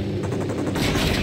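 Sustained automatic gunfire in Ghost Recon Wildlands, a loud, close, continuous volley of rapid shots that grows denser toward the end.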